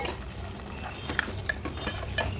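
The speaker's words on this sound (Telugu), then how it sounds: "ఉడకబెట్టిన కంద ముక్కలు వేసి కలపాలి." Elephant foot yam curry with boiled yam pieces stirred in a pan, giving soft scraping and light clinking of a spoon against the pan over a faint steady sizzle, with no talking.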